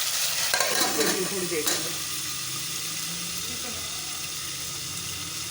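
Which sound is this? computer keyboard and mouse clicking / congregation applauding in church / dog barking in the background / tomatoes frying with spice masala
tomatoes frying with spice masala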